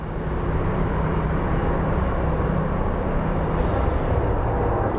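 A Mesa Airlines airplane at Phoenix Sky Harbor International Airport gives off a continuous broadband jet roar, loud and steady throughout, with no voices.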